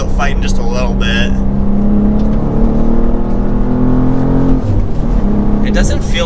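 A 2023 BMW M2 with M Performance parts pulls hard from inside the cabin, a steady droning engine note that climbs in pitch with a gear change, under someone talking.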